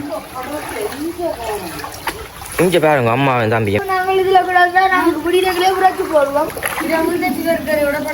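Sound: splashing flood water from heavy rain

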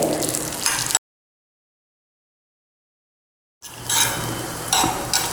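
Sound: dry fruits frying in ghee

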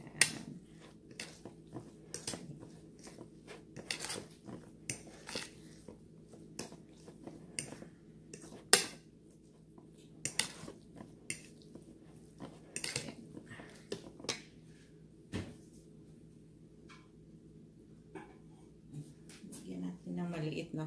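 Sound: mixing fish patty ingredients with flour in a bowl

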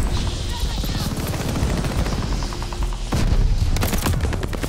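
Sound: NZ-41 gunfire in the video game Call of Duty: Vanguard

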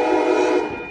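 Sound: Amtrak Capital Corridor train with Siemens locomotive passing

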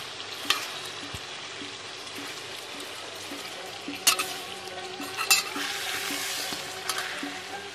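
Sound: carrots frying for Uzbek dimlama

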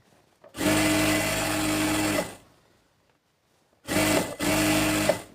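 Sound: sewing machine stitching a salwar

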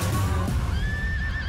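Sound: horse neighing in film trailer

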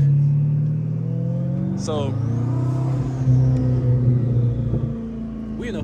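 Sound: 1400 horsepower C8 Corvette engine revving

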